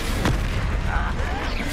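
A Confringo fire-blast spell bursting in Hogwarts Legacy, with a short punchy boom over dense rumbling combat noise and a voice calling out the spell.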